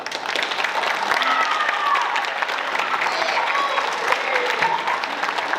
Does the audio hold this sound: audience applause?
yes